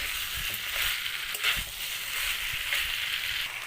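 Chicken and onions stirred in a hot pan, with a steady sizzle under soft scraping and stirring strokes, close and continuous throughout.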